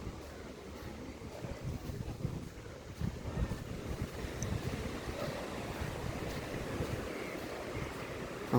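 Sea waves wash onto Palolem beach in a soft, continuous surf rumble, heard under wind noise buffeting the microphone during a walk along the shore.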